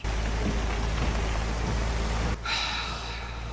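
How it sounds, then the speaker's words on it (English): Heavy rain pours in a dense, loud hiss, then drops abruptly to a softer, thinner patter with a faint tonal shimmer, no talking over it. "I'm sorry I didn't hear you in all this rain."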